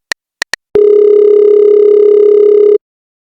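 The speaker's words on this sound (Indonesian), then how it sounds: "Apa gue telepon Naura dulu aja kali ya?" A phone dial tone from the video game Sakura School Simulator: three short electronic beeps, then a steady, loud tone that holds for about two seconds before cutting off.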